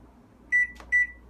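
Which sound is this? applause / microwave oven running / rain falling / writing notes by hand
microwave oven running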